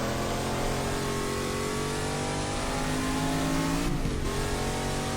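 A road-legal race car built for WEC endurance racing revs hard and steadily, its loud engine droning alone with rising tones and a brief dip before climbing again.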